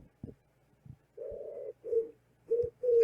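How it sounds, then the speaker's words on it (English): Pigeons in a park coo in several close, low, hollow notes, with soft taps and rustles of bird seed being sprinkled between the calls. "when you sprinkle these bird seeds like rain, pigeons come from all over the park and know exactly where to find them"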